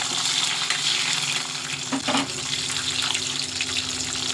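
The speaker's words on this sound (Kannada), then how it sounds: "ಬಾಣಲಿ ಅದೇ ಬಾಣಲಿ ಇಟ್ಟಿದ್ದೆ ಸ್ವಲ್ಪ ತುಪ್ಪ ಹಾಕ್ಕೊತೀನಿ ಸ್ವಲ್ಪ ಗೋಡಂಬಿ ಸ್ವಲ್ಪ ಗೋಡಂಬಿ ಇದು ದ್ರಾಕ್ಷಿ" Cashews and raisins fry in ghee in a pan, producing a continuous close, dense sizzle with a brief stirring clatter partway through and no speech.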